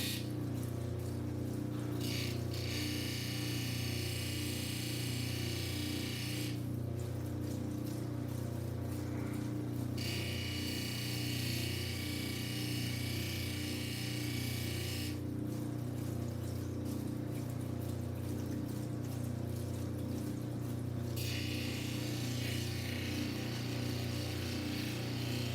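A small power tool runs steadily while polishing a jewelry piece set with Utah green garnets, a constant close whir with a tonal drone, interrupted by several stretches of brighter, harsher grinding as the piece is pressed to the wheel.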